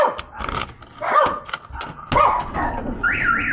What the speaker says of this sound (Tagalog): mag-a-alarm po yung sasakyan nyo